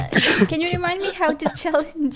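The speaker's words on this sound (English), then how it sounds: "I had to sneeze." A person sneezes with a sharp burst at the start, followed immediately by someone talking.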